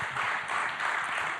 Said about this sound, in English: Everybody give Rex a round of applause.